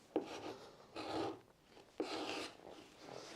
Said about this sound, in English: let's take the other card scraper